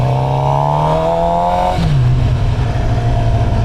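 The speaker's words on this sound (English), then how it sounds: "Oh my goodness, even with the stock exhaust, it still sounds so good. That intake howl is so awesome with this bike." A Suzuki GSX-R 750 motorcycle on the move with its stock exhaust gives a loud, close intake howl. The engine note drops at a gear change partway through, then settles back into a steady drone.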